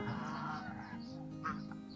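Farm geese honk over a steady hum during the rainy season, the calls faint and somewhat distant, with a brief louder honk near the end.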